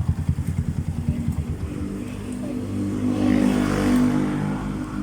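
A motorcycle exhaust pops in quick rhythmic bursts at first, then revs up into a smooth rising roar before easing off, heard fairly close with no talk over it.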